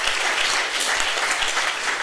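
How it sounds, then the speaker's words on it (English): Audience at a comedy roast event in Iowa City applauding their host, a broad, steady wash of many hands clapping with no breaks, full and close throughout. "how about a round of applause tonight for your host, Yale Cohn?"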